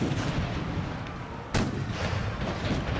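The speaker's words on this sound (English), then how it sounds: "all we can do now is keep firing" Artillery and musket fire in the Empire Total War battle game, heavy booming blasts and crackling volleys rolling together, with a sharp loud report midway over continuous battle rumble.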